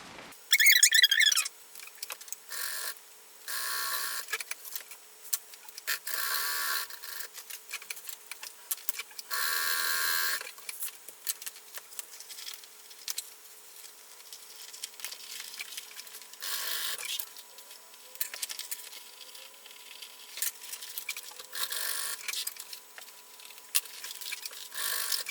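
A sewing machine stitches fabric in short and long runs, its motor whirring and needle clattering in stop-start bursts with quiet pauses between, close by and without talk.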